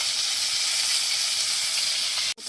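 Cauliflower frying with turmeric and salt in hot oil gives a steady, dense hiss held close and even for about two seconds, ending in a sudden short cut.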